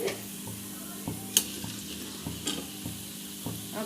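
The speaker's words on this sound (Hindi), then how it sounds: "अब हम इसमें खड़ा धनिया, सौंफ और राई डालेंगे। हमारा तेल गर्म हो चुका है।" Whole coriander, fennel and mustard seeds sizzle steadily in hot oil in a kadai, a soft continuous frying hiss broken by small crackles and pops, heard alone and fairly quiet.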